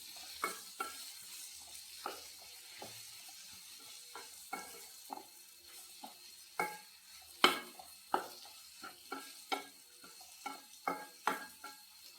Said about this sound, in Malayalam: കുറച്ചൊന്ന് ഇളക്കി കൊടുക്കാം.